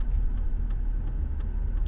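A car heard from inside while driving, with a steady low engine and road rumble, moderately loud and continuous, with a few faint ticks over the drone.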